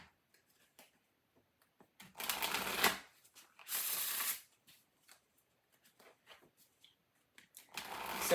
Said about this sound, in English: Just drop these cards all over the floor.